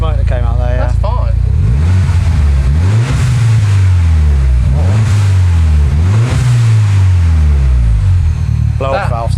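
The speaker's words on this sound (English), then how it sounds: "Blow-off valve sounds good though" A turbocharged Mini bought from a salvage auction and in need of heavy repair revs hard close by, a loud droning engine rising and falling in repeated pulls with blow-off valve sounds, excited voices talking briefly at the start and end.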